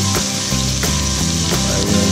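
Whole black peppercorns hitting a hot pan while cooking lamb caldereta, giving a loud, steady close-up sizzle with faint clicks and scrapes over it.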